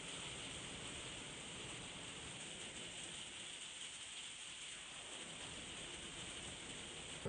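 Steady rain pours down outside, a constant dense hiss with soft pattering, unbroken and fairly close throughout.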